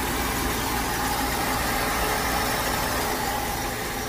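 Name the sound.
car engine idling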